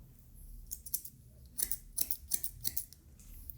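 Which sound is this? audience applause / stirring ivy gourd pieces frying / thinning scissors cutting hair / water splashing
thinning scissors cutting hair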